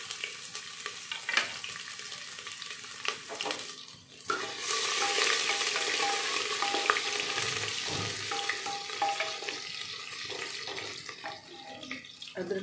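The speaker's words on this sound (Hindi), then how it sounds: "तेल साड़ा हो गया गर्म, तो हूँ असी पाता जीरा।" Cumin seeds sizzle and crackle in hot oil in a home kitchen, a steady frying hiss that swells into a louder burst partway through, with stirring noises and no talk.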